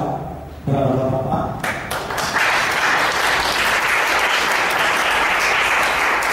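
Audience at an award gala applauding a master's thesis competition winner: a brief voice and tapping at first, then a sudden swell of dense, sustained clapping filling the hall and continuing steadily to the end.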